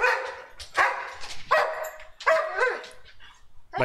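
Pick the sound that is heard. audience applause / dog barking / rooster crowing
dog barking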